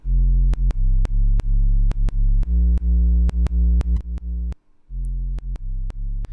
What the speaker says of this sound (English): for the sub, we basically have a super simple Serum patch. It's a sine wave oscillating at -1 octave with an MG low filter on it